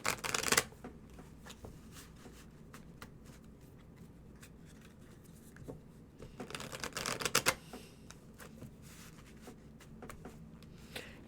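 Playing cards being shuffled, with a riffle burst at the start and a longer run of ruffling several seconds later, close and crisp against quiet room tone.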